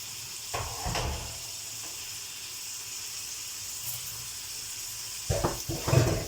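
Zucchini with minced meat and onion sizzles in a pan with a steady hiss, broken by a few louder scraping and stirring clatters near the start and end.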